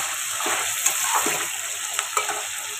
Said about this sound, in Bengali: চিকেনটা আমার মোটামুটি ভাজা হয়ে গেছে